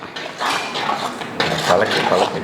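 A metal ladle scrapes and clinks against a pot of fish curry in a few short stirring strokes, heard close up.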